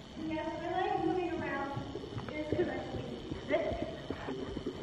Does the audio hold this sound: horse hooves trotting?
yes